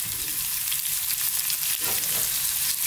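Onion frying in a pan for vegan cauliflower fried rice gives off a steady, dense sizzle that stays loud and even throughout, with no talking.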